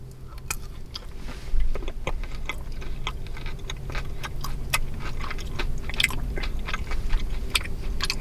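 Dark chocolate being chewed close to the microphone, with repeated crisp bites and crunches over a low background hum, steady and without talk.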